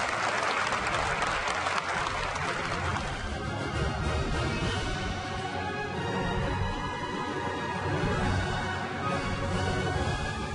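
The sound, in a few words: applause celebrating Samsung's first wafer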